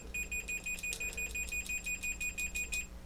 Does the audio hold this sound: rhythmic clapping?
no